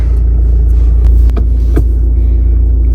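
A 2019 Skoda Octavia 1.6 TDI 85 kW diesel idles loudly close by with a deep steady rumble and throb, a few brief clicks and knocks on top.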